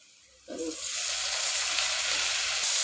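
Tomatoes and coriander leaves dropped into browned onions in hot oil burst into a loud, steady sizzle that swells after a quiet start and holds close and even throughout.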